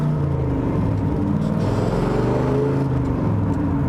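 A 1965 Chevrolet Corvette C2 Sting Ray with a big-block V8 and a Tremec five-speed, heard from inside while driving: a loud, steady low engine rumble that holds throughout and rises slightly as it pulls.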